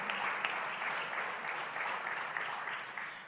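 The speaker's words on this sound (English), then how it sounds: "We've had a big round of applause." Steady applause from an audience at a USDA Ag Day event, a short, even burst of many hands clapping at moderate distance with no talk over it.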